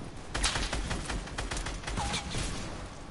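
Crackling bursts of rapid gunfire in a shooter video game, steady overlapping shots at moderate loudness with a few sharper cracks standing out.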